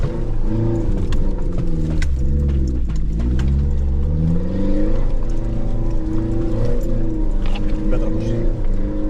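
A 4x4 off-road vehicle revs on a muddy track, a loud, close engine that rises, dips and surges repeatedly, with voices talking over it.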